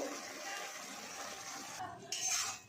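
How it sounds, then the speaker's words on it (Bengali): Water poured into a cooking pan of masala peas and mushroom curry, a soft gushing splash rising briefly near the end over faint kitchen background. "এরপর পরিমাণ মতো জল দিচ্ছি।"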